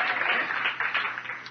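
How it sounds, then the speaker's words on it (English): Brief burst of church congregation clapping during a sermon, dense and fairly loud over a low steady hum, fading slightly within a second and a half. "Come on, give the Lord a clap over and stand with me."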